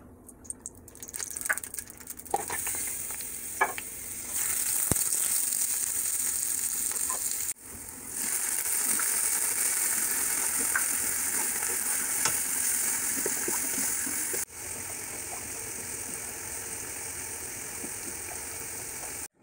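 Thin-sliced onion caramelizing in a pan with apple cider vinegar and brown sugar, a steady close sizzle and fry that swells louder midway, with brief stirring clicks and scrapes and no talking.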